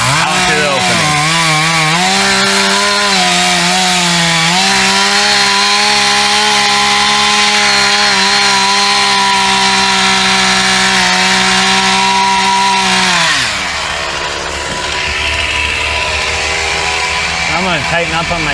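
Chainsaw cutting through a tree during a grapple-assisted takedown, its engine droning loud and steady with a slight pitch shift near the start, then cutting off abruptly before a quieter stretch.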